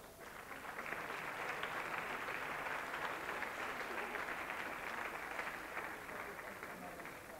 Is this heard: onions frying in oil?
no